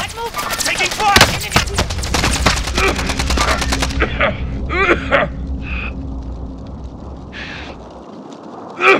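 Call of Duty: Modern Warfare gunfire: a loud, rapid automatic burst of shots for about four seconds, then scattered single shots and radio-style voices as the firing dies away.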